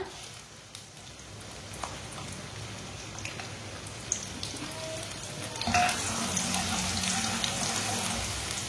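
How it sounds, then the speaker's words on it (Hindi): Finely chopped onion frying in oil with cumin and whole coriander seeds for Punjabi sarson ka saag. A close, steady sizzle with stirring scrapes swells suddenly louder about two-thirds through and stays strong to the end. "प्याज को हल्का सा ब्राउन कर लेंगे"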